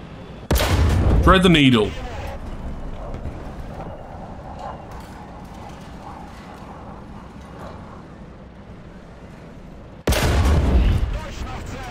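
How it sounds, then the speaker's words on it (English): Gunfire strikes a Russian light tank in the War Thunder video game: two loud, sharp bursts of rapid impacts, one near the start and one near the end, with someone talking briefly between them over quieter battle noise. "I'm getting shot by something. Likely an aircraft."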